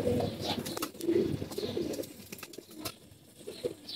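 Army bezi pigeons coo in low, throaty, rolling murmurs close by, with several birds overlapping in a steady burble and scattered higher chirps and wing rustles.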